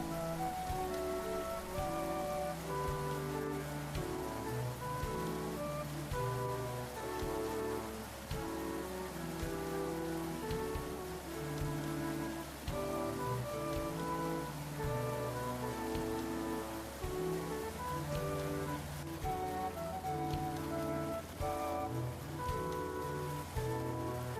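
Steady rain patters continuously during a boat cruise on the Erie Canal, under background music with sustained tones.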